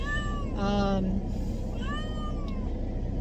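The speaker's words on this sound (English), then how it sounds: "right now we have 6 kittens and a cat" A cat meows clearly twice, a long rising-falling cry followed by a second shorter one, close by over a steady low background rumble; kittens are also present.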